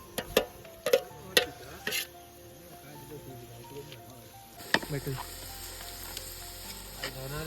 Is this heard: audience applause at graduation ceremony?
no